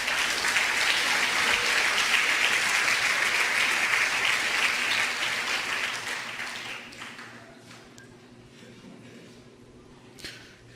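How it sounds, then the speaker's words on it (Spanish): A church congregation applauds loudly and steadily during a Spanish-language sermon; the dense clapping holds for about six seconds, then thins and fades into a quieter room. "Denle un aplauso al Señor."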